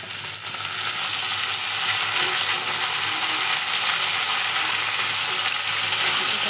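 Eggplant and potato pieces fry together in a hot pan of oil, giving a steady, close hiss and sizzle throughout with faint stirring and no voices.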